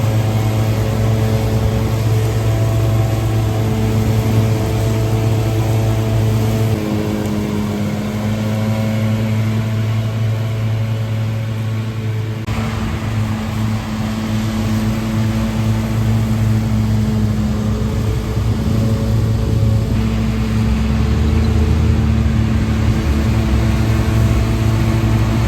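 Tractor-drawn mower with conditioners cutting third-cut silage grass in a paddock, a steady loud engine drone with a constant low hum and whirring machinery throughout, no talk.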